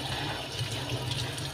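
Tap water runs steadily into a household sink while the temperature is checked before watering flowers, a close, continuous splashing hiss with no voices.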